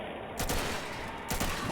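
Two short bursts of gunfire in Fallout 4 in modded survival mode, each a quick crackling volley separated by about a second, fairly quiet over a low background hum.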